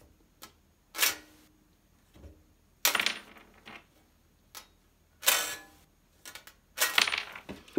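A screw is dropped repeatedly onto a magnet, giving several sharp metallic clicks and taps at irregular intervals, some with brief rattling bounces, close and clear against near silence.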